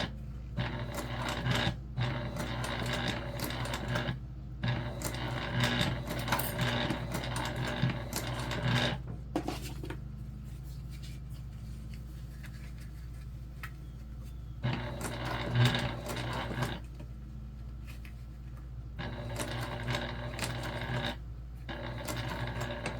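Mini Magda sewing machine by Oro back-stitching two fabric loops together at a 3/8 inch seam, running in several steady whirring bursts with short pauses between them, close and fairly loud.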